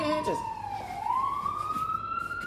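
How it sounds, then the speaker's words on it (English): Emergency vehicle siren outdoors, a clear wailing tone that dips and then climbs steadily, moderately distant, with faint background noise and some brief clatter at the start. "Y'all hear the sirens?"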